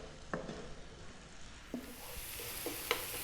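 Black pepper and dried oregano cooking in a pan over medium heat give a faint, steady sizzle, broken by a few soft scrapes and clinks of stirring. No one talks.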